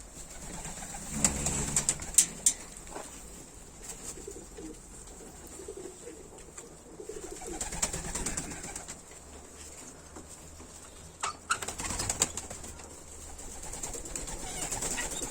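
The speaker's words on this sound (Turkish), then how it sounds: "Maşallah yemeğine sağlık güzel kuşlar." Ornamental pigeons cooing softly in a coop in Düzce, Turkey, low murmuring calls with a few brief wing flaps and rustles scattered through, no talking.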